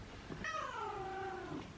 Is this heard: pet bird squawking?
no